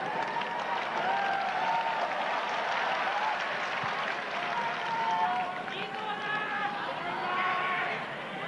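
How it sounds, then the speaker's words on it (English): A crowd at a 1987 Memphis wrestling broadcast roars and cheers continuously, a dense, loud wash of voices and applause with no pause. "The crowd is wild as hell."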